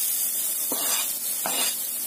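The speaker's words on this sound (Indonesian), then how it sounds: "Setelah panas, kita masukkan bawang putih cincangnya." Minced garlic frying in hot oil in a pan, with a steady bright sizzle throughout and two soft stirring scrapes, close and alone.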